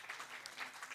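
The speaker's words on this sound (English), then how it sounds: "Just a round of applause." Faint, distant audience applause at an academic research colloquium, a brief soft patter of many hands clapping in a hall.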